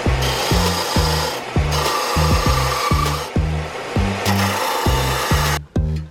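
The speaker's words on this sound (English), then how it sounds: "today I'm going to be showing you my Central Machinery 4x36 belt and 6-inch disc sander" A Central Machinery 4x36 belt and 6-inch disc sander abrades wood in repeated strokes, a loud steady motor whine overlaid with rhythmic raspy scrubbing pulses roughly every half second, close up and without speech.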